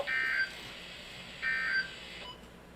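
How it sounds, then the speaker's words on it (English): A weather radio sounds its weekly test alert tone: two steady, moderately loud electronic beeps about a second apart, each lasting roughly half a second, with a faint hum underneath. "my weather radio went off for a weekly test"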